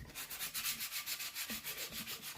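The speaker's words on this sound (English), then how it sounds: "we're going to rub these down. We're doing it with 60" A Jaguar XJ40 4.0L body panel rubbed down by hand with 60-grit sandpaper, a close, steady rhythmic rasping of back-and-forth strokes, about five per second, with no talk.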